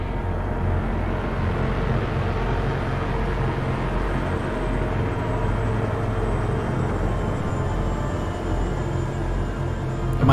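A helicopter in the Far Cry 5 video game gives a steady, loud, continuous drone of engine and rotor noise that fills the whole stretch without a break.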